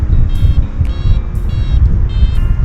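A paragliding variometer beeps in short, rapid high tones pulsing over heavy, loud wind rush during flight from the Croix d'Allant launch.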